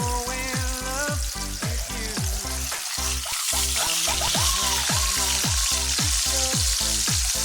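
Pork steak sizzles and crackles steadily in a hot pan over medium heat, a close, continuous frying hiss with no talking.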